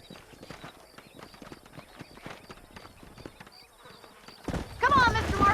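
Horse hooves clip-clop at a walking pace in Red Dead Redemption near Armadillo, a quick, fairly soft rhythmic patter, before a louder burst of voice and game sound cuts in near the end.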